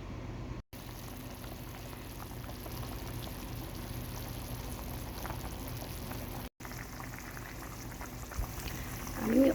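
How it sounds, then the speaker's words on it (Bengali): Beef simmers in a generous amount of water in a cooking pot, a steady close bubbling hiss that runs almost unbroken, with a brief louder stir near the end. "মাংসটা সিদ্ধ হওয়ার জন্য আমি খুব বেশি পরিমাণে পানি দিয়েছি"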